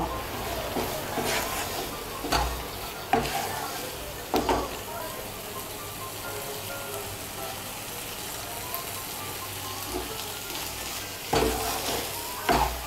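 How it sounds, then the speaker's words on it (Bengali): Taro curry being stirred in a pan over raised heat, with soft sizzling frying underneath and a few clanks of the spoon against the pan at intervals, fairly close. "এখন আঁচটা বাড়িয়ে দিয়ে একটু নাড়াচাড়া করে নিয়ে এর মধ্যে বাকি ধনেপাতা কুচিগুলো দিয়ে দেব।"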